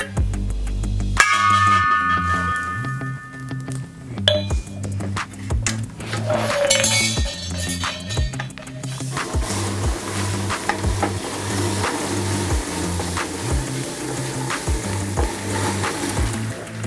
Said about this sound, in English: I'm gonna fill this up with liquid nitrogen.